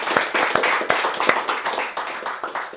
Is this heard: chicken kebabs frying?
no